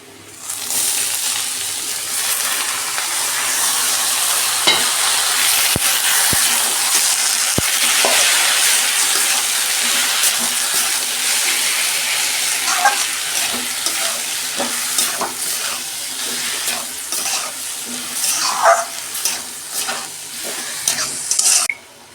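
Leafy greens added to onion, chili and garlic frying in a pan, a steady loud sizzle with repeated stirring scrapes and clinks from a spatula, no talk.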